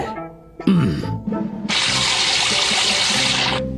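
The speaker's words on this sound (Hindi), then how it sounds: "ओ, पानी आ गया, पानी बाहर निकल रहा है।" Water bursts out and gushes steadily from a tap or spout, loud and close, after a few brief clunks and rattles at the start.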